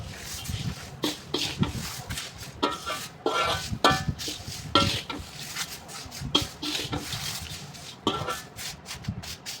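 Dry-roasted ingredients for drumstick-leaf (moringa) powder stirred together in a pan, a steady run of scraping, rubbing strokes and light clinks of a spoon against metal, close and fairly loud with no talking.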